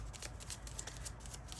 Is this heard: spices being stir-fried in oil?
no